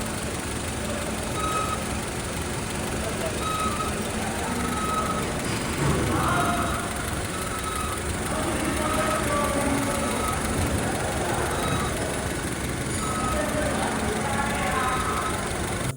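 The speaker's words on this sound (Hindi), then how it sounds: "गाड़ी को स्टार्ट हमने कर लिया है।" A car engine runs at a steady idle right after starting, a continuous hum and mechanical whir with faint ticking, heard close by in a workshop setting during a water pump fault diagnosis, with someone talking over it.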